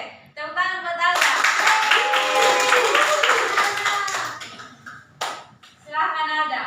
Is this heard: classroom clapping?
yes